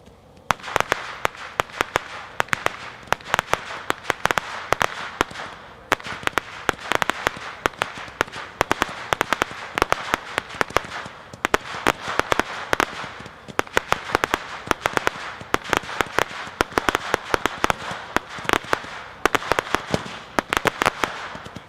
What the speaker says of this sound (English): Number 9, Roman Candle Popping Comet, comes 15-1, 84 shots. We're shooting 2 of these just to show effect.